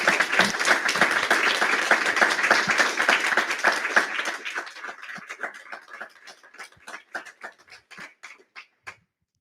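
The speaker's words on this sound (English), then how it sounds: "please join me once more in a round of applause for all the talks that we heard today." An audience applauds at the end of a series of talks, dense clapping that thins after a few seconds into a handful of scattered claps before fading out.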